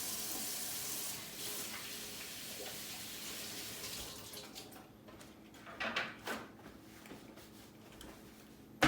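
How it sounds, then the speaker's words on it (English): Running tap water splashing over hands at a sink, a steady close hiss for several seconds that thins out, followed by a few brief splashes and a final clunk. "you're gonna want to rewash your hands just to not have any cross-contamination"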